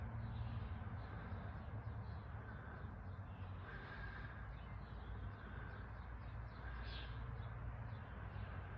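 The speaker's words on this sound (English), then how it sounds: "Hear all the birds? Yeah, oh, I even hear some grackles, or some starlings" A chorus of harsh, chattering bird calls, grackles or starlings, repeating over a low steady rumble of background noise.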